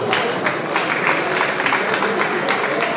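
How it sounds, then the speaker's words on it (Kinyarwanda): Sustained applause from a large audience at a memorial farewell night, dense and steady for the whole stretch, with crowd murmur mixed in. "mukoma amashyi menshi cyane."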